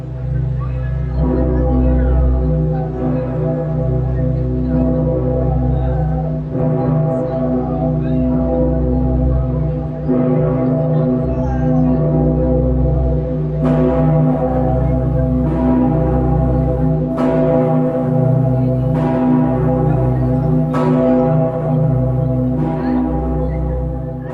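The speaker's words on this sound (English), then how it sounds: "St. Peter's Glock at Cologne Cathedral in Germany." St. Peter's bell at Cologne Cathedral in Germany, a huge bourdon cast in 1923 by the Heinrich Ulrich foundry, rings loud and deep with a sustained humming tone and repeated strikes building through the recording.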